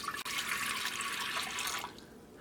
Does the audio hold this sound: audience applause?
no